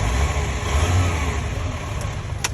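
A Volkswagen Caravelle van engine runs loud and close, revving up and holding a steady mid-pitched roar after starting, with a couple of faint clicks near the end and no talking.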